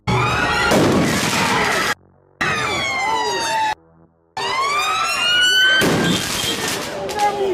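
A loud police siren wails in rising and falling sweeps, cut by two brief silent gaps, with a harsh broadband crash-like burst near the start and end.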